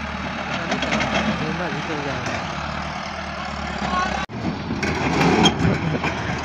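A farm tractor engine running steadily at a constant idle-like drone, close and loud, with a brief sharp drop partway through and continuous rumble throughout.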